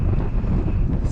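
Strong wind buffets the microphone with a dense, continuous low roar and rumble, loud and close throughout, on a journey riding through wind and rain.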